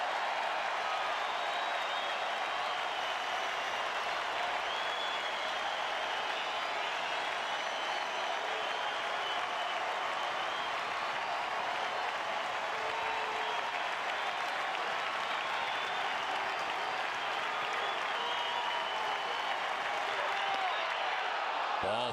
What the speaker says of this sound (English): this Fenway crowd has had so much to cheer about over the last 2 nights